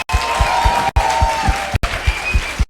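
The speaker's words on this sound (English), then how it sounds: "Let's have a big round of applause for Kamal Haasan." An audience at a keynote speech at Harvard University claps steadily and loudly, a dense wash of applause with a few brief cut-offs.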